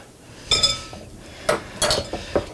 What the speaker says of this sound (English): This is going to take a little while, okay, to get this all creamed together.